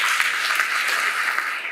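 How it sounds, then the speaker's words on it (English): Steady applause from an audience at a book launch ceremony, a continuous bright patter of many hands clapping close and fairly loud, with no talk over it. "So can we please give her an applause?"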